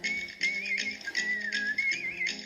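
Whistling at a tumbling class runs as one continuous, sliding high melody, fairly loud and close, over faint background noise.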